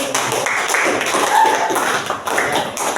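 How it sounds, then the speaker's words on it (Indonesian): A classroom claps for a student named Chandra with a brief burst of scattered hand claps and taps, with voices mixed in underneath. "tepuk tangan buat Chandra."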